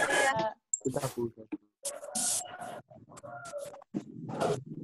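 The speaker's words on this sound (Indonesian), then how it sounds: "Nah, itu ada suara ayam itu." A chicken clucks and squawks close by, mixed in with people talking over one another.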